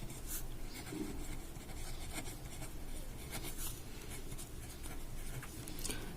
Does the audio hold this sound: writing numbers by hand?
yes